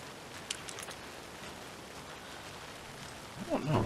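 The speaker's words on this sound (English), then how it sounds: "It's raining." Steady, faint rain patters on the street and sidewalk in the game Alan Wake 2, a soft continuous hiss with a brief voice rising at the very end.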